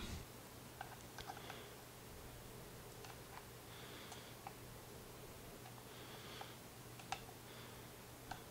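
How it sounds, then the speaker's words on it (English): A coin levering a Seidio Obex waterproof case off a Samsung Galaxy Note 3, giving scattered faint clicks, ticks and plastic creaks spread over the stretch under a steady low hum. "that's where you're going to start prying this off. Now, don't use a knife, don't use scissors"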